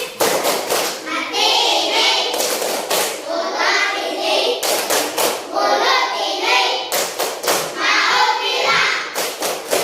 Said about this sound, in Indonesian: Kita tepuk terima kasih dulu. Tepuk terima kasih.